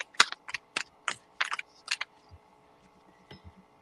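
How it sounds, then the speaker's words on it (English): Tarot cards are shuffled in a quick run of crisp, papery riffles and taps, a burst of about eight close clicks followed by a few softer ones. "I'm shuffling the cards"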